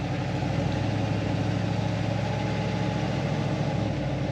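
Grandpa's old farm truck engine idles and runs roughly, a loud, steady low rumble with an uneven, stumbling pulse throughout and no voices over it.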